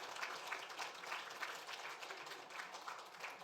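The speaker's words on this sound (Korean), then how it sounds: "우리 손정자매를 위해서 한번 박수 한번 치십시다" A church congregation claps for a sister during a Korean gospel service, steady soft applause from a crowd across the whole stretch, moderately distant and even.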